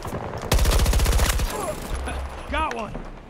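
An AEK rifle firing a rapid automatic burst in a video game, loud and close, with someone talking over the gunfire and afterward.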